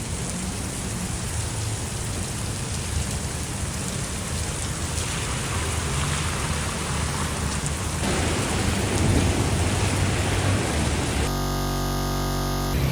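Heavy rain pours steadily during a severe storm at a delivery station, a dense continuous roar of rain with low rumbling thunder underneath, loud and unbroken.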